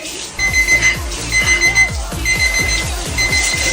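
A dumbbell-shaped alarm clock rings loudly and close by, with rapid beeping bursts repeating in a regular rhythm over a pulsing low thump.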